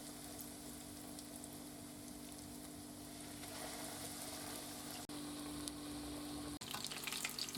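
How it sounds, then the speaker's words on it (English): A chicken katsu cutlet fries in hot oil with a steady, faint, continuous sizzle. A low hum runs underneath, with brief clicks and small crackles near the end. "Now let's lay this cutlet in away from yourself into the oil."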